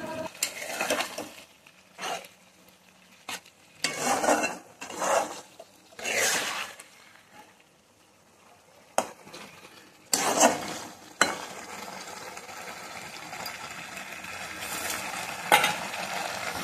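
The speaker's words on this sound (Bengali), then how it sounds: "এখন আমি এর মধ্যে দিয়ে দেব আলু আর পটলটা ভেজে রেখেছিলাম যে, সেগুলো আলু আর পটল দিয়ে কিন্তু আমি ভালোভাবে কষিয়ে নেব।" Fried potatoes and pointed gourd being stir-fried in spice paste for a prawn curry, with bursts of loud sizzling and scraping stirs broken by quieter pauses and a few sharp utensil knocks.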